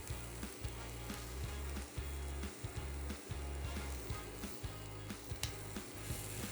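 Garlic sizzles in a pan with peppers and onions, a steady, loud frying hiss with faint stirring scrapes throughout and no talking.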